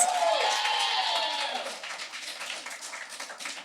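Live audience at a podcast taping clapping and cheering to vote for a song, opening with whoops and shouts over clapping that settle into steady moderate applause from a small crowd.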